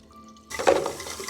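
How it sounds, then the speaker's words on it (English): Tap water runs into a basin being refilled for bathing a rescue cat, starting abruptly after a quiet moment as a close, steady splashing gush with a faint clink. "So now you want to fill it again with water, which is not too hot, not too cold"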